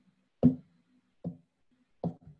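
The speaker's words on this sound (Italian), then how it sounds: "Questo è il suono di una batteria acustica" Acoustic drum kit kick drum sample, three deep, short thumps with very fast decay, spaced about a second apart, with a soft extra hit after the last, clean and isolated with no voices.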